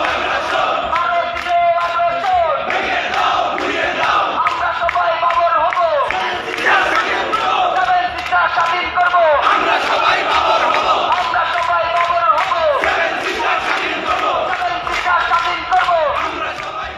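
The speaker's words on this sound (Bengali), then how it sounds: "বিভিন্ন ভার্সিটিতে ছাত্ররা এই স্লোগান দিয়েছিল" A crowd of university students chants a political slogan in loud, sustained unison, with rhythmic repeated shouts and voices overlapping throughout.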